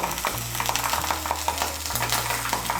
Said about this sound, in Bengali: আদা বাটার কাঁচা লঙ্কা বাটাটাকে মিশিয়ে নিয়েও একটু ভেজে নেব